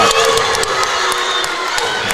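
A volleyball crowd cheers and roars right after a block during a Longview vs Rockwall-Heath match, a steady, loud wash of voices sustained throughout with scattered shouts.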